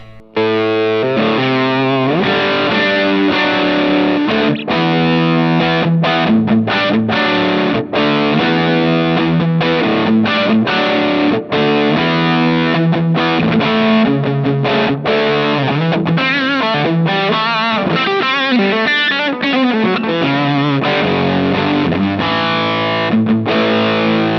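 Electric guitar played through a Fuzzrocious Cat Tail distortion pedal, a gritty, saturated tone with chords and melodic runs, loud and continuous with no talking.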